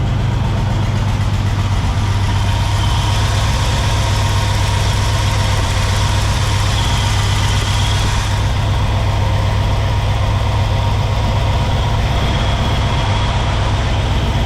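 1964 Pontiac Catalina barn find engine idling slightly high after 30+ years unused, a loud, steady, close low rumble throughout with no talk.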